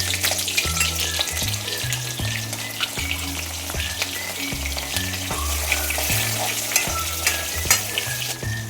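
Onion sizzling steadily in hot oil for Savji chicken, a loud continuous frying hiss with repeated stirring knocks and scrapes of a utensil throughout, no voices.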